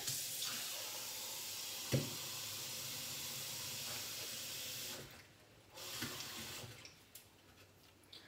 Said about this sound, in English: I'm gonna add 2 more cups of water.